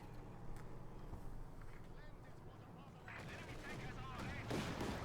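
A Pak 40 anti-tank gun firing in a Company of Heroes 2 battle: booming blasts among other gunfire and battle noise that grow louder toward the end, all under steady commentary from a speaker.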